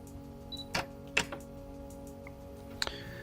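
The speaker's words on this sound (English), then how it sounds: "I'm going to put my spinner in motion and take another photo." A Canon EOS 7D Mark II firing its shutter at 1/1000 second, with a few sharp mechanical clicks over a faint steady hum and no talking.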